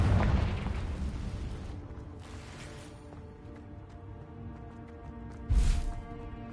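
Two Confringo blasting spell explosions from Hogwarts Legacy: a deep boom opens, fades into low rumble, and a second sharp, punchy blast hits near the end.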